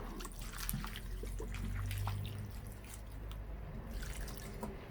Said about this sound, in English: I'll just add a little bit more water.